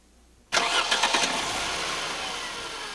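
Car engine with Bosch KE-Jetronic fuel injection cranking and catching: near silence, then an abrupt loud burst as the starter turns and the engine fires, settling into a steady idle.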